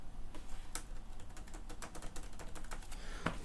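Rapid key clicks from an old Dell computer keyboard, a close, irregular run of sharp taps lasting a few seconds with a louder clack near the end.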